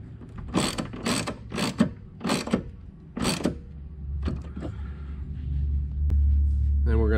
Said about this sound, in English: just make it nice and straight, and tighten that bolt up.